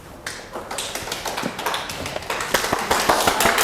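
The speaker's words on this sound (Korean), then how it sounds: "박수하시죠" Applause from a small group closing a meeting with a developer of vacuum insulation for buildings: crisp, close hand claps start after a brief pause and build into a steady, growing patter with little talk.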